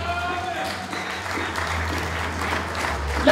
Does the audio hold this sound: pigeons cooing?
no